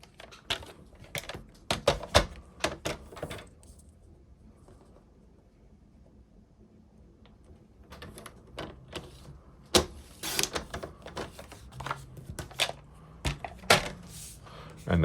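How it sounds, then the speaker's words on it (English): Scissors or a blade cut card paper along a pencil mark, giving a run of crisp snipping clicks in irregular bursts, close and fairly loud, with a quieter pause in the middle. "I'm going to cut from that pencil mark up to this corner."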